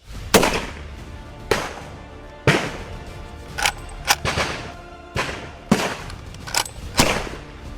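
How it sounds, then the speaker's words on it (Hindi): Gunfire rings out during a Gorkha army firing drill: a string of sharp, loud cracks spaced irregularly about a second apart, some in quick pairs, each echoing briefly in open air. "आगे बढ़ते हुए फायरिंग करना आसान नहीं होता"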